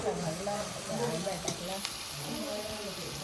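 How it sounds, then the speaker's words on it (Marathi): Wild mushrooms fry in a spicy tempering in a pan, giving a steady close sizzle and hiss, while a voice speaks over it. "मस्तपैकी झंझणीत फोडणी तर झाली त्याच्यात आता ही आपली अळंबी टाकूया"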